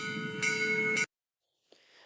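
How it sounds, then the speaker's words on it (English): An ESU LokSound 5 decoder plays an HO scale locomotive bell sound effect, a bright sustained ringing tone that cuts off abruptly, followed by silence and a faint click. "Same with the bell."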